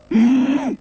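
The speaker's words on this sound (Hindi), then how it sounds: "सांस अंदर लेते समय साउंड करो" A single drawn-out inhalation through a constricted throat during ujjayi yoga breathing, a steady hoarse rasping hiss lasting under a second, close and isolated.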